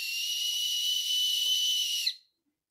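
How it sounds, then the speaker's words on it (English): One long, steady, high-pitched dog-training clicker whistle blast held for about two seconds, then cut off sharply, followed by silence. "This is a clicker whistle."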